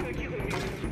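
Rapid gunfire in the first-person shooter Far Cry 5, a dense burst of shots through a single second, loud and close, with a voice talking over it.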